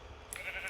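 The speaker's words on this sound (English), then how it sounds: "There's a sheep in the water there." A sheep in a block-building video game lets out a brief, faint bleat, soft and short against a quiet background.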